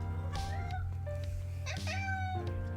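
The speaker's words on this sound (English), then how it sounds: "The cat will be joining us at random intervals." A house cat meows several times up close, with drawn-out, wavering cries over a steady low hum in a quiet room.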